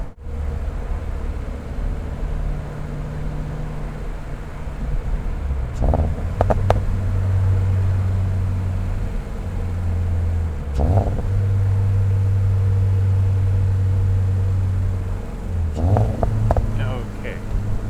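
Exhaust of a 2022 Subaru BRZ / Toyota GR86 recorded near the tailpipe while driving, a deep steady drone that swells in several rising pulls with gear-change breaks between them.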